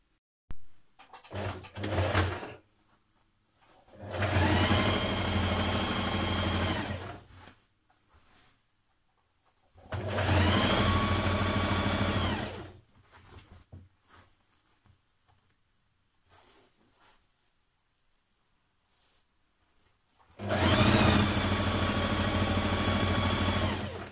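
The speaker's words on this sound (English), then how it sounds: "keep a hold of it while you're sewing to make sure it all stays lined up and that nothing pulls out of place" Sewing machine stitching a jeans seam with a 1.5cm seam allowance, running in three separate bursts of steady mechanical whirring, each lasting a few seconds, with quiet pauses in between.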